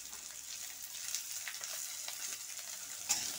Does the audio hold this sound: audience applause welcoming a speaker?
no